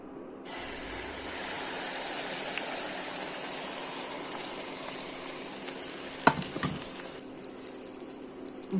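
Garlic egg frying in hot oil in a pan, a continuous close sizzle with a faint background hum and a couple of sharp clicks and scrapes near the end.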